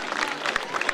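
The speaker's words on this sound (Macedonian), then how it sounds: "Ајде на почетокот да дадеме еден голем аплауз за овие 12 храбри девојки кои сега ќе се појават" An audience claps for a line of twelve pageant contestants at a local gathering, a brief burst of scattered, fairly distant applause with a few sharper individual claps.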